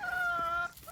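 A farm hen gives a single sustained tonal cluck-like call, close and clear, cut off briefly before a second short note begins.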